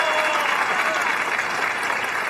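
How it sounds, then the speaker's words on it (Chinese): An audience breaks into steady, dense applause at a stage event, a full continuous wash of clapping from a large crowd throughout, with no speech over it. "谢谢朋友们热情洋溢的掌声"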